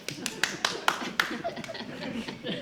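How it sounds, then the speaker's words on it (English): Scattered claps from a few audience members at a high school stage play, about five sharp hand strikes in the first second and a half, with chuckling and cast voices mixed in. "Let's get a round of applause for a perfect stunning angel."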